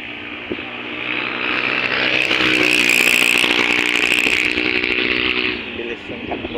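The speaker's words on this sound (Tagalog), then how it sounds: "Bilis ng takbo ng motor." A motorboat engine running fast near a seaside beach where children swim, a loud, steady buzzing drone that swells in the middle and eases off toward the end, with a voice briefly over it.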